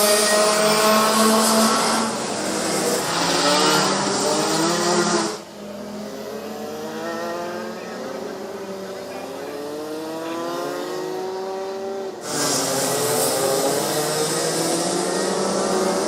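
Rotax Max racing karts at a national karting championship, closely packed on the start-finish straight, with loud buzzing two-stroke engines that rise and fade as the pack passes, a continuous roar throughout.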